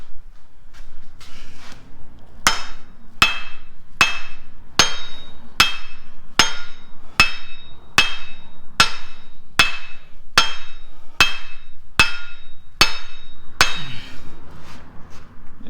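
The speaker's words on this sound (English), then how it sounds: "Let's grab our rubber hammer and see what happens." A steady series of sharp, evenly spaced rubber mallet strikes driving an axle into its splines on a 1964 Ford F100 rear end, about a dozen blows roughly every 0.8 seconds, close and loud with no talking.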